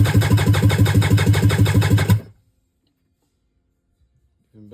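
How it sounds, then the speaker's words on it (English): Stand-up jet ski engine cranks over on the starter during a rear-cylinder compression test, a loud, rapid, rhythmic chugging for about two seconds that stops abruptly, followed by near silence. "Compression test on the rear cylinder."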